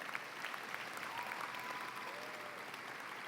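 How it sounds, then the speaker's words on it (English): Faint, distant applause from an audience in a high school auditorium at a 2019 graduation ceremony, honoring families; a soft, even wash of many hands clapping without letup. "Let's give them a round of applause."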